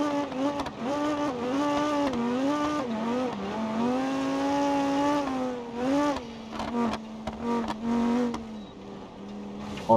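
Engine of a car in BeamNG.drive revving up and dropping as it shifts gears repeatedly, a steady loud whine rising and falling through the gears with some tire noise.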